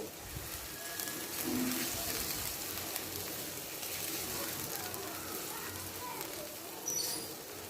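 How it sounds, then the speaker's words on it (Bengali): Raw mango pieces stirred in hot oil after the stove is switched off, a soft continuous sizzle with faint scraping of the stirring, close and fairly quiet. "এবার কেটে রাখা আমগুলো দিয়ে দিব তেলের ভিতর আমগুলো একটু নেড়ে দিব"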